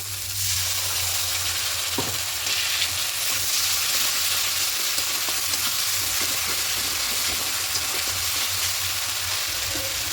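Masala for a katla fish curry sizzles steadily in a pan as it is stirred and cooked down, an even, moderately loud hiss with light scraping and no voices.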